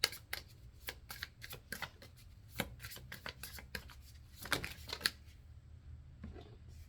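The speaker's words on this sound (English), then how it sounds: "I'm going to pull some angel number cards to see what we're working with." Angel number oracle cards being shuffled by hand, a run of quick, soft riffling flutters and taps repeating at close range, fairly quiet with no talking.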